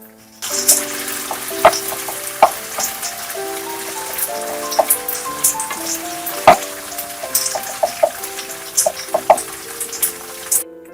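An aromatic mixture frying in a pan while being stirred: steady sizzling and crackling with scattered spatula scrapes and taps, close and continuous, with no talking.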